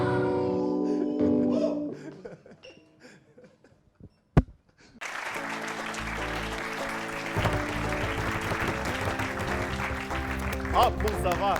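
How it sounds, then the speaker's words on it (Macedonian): An audience at a Macedonian TV show applauds, a loud sustained crowd clapping that begins after music and a sharp hit, with voices mixed in. "Аплауз за вас, аплауз за вас."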